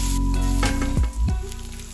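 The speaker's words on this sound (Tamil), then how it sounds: "ஒரு பச்சை மிளகாய் போட்டு தேவையான அளவு உப்பு போட்டு வெங்காயம் நல்லா வதங்குற வரை" Onion, green chili and salt sauté in a hot pan with a close, steady sizzle. A few soft stirring knocks and scrapes come partway through, and no one talks.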